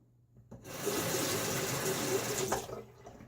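Water runs from a tap in a steady, moderate rush for a few seconds while someone rinses after a wet shave, then cuts off.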